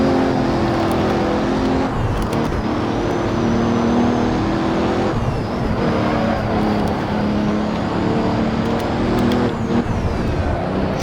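A Bugatti Chiron's engine roars continuously in the Assetto Corsa racing game in VR, a loud sustained drone with shifting pitch bands as it accelerates, no talking over it.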